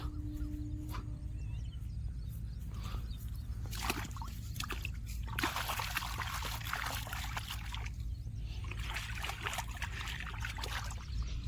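Water from a tubewell pipeline runs into a farm field, a continuous low rushing flow with intermittent splashing and trickling, moderately close under a steady background rumble.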